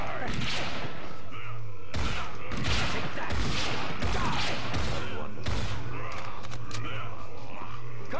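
Dense, continuous blaster and gunfire in a Star Wars Battlefront battle, heavy thuds and bursts layered over a steady rumble with repeated sharp volleys and no pauses, with game voices mixed into the din.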